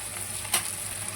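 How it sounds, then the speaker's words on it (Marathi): Low, steady sizzle of masala spices sautéing in oil, with a single brief scrape of stirring in the middle. "आता याला मग तेल सुटेपर्यंत परतून घेते चांगलं."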